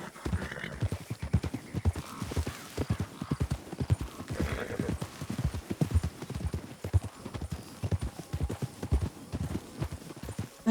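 Horse hooves clip-clopping steadily in Red Dead Redemption 2, a continuous close rhythm of hoof strikes on the ground, with an occasional faint whinny.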